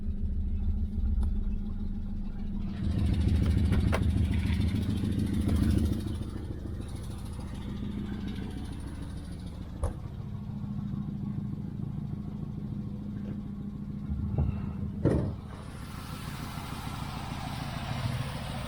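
A 1999 Camaro V6 with a 5-speed manual and 58,891 miles runs with a steady low engine rumble. It is somewhat fuller for the first few seconds, then settles into an even idle, with a couple of light clicks along the way.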